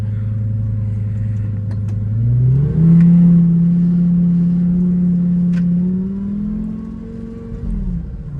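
A Lamborghini Gallardo's engine idles, then revs up as the car pulls away and drives on, a smooth mid-pitched drone rising and easing back, heard close and alone.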